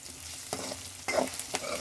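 Onions frying and being stirred in a pan for a home-cooked gravy, a steady close sizzle broken by a few scraping stirs of the spoon, with no talking.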